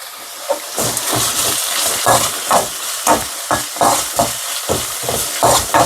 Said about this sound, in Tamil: நான் எல்லாமே வதங்கட்டும், ஒன்றாவே வதங்கட்டும்.